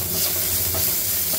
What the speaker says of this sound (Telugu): ఫ్రై అయిన తర్వాత జింజర్ గార్లిక్ పేస్ట్ వేసేస్తాం.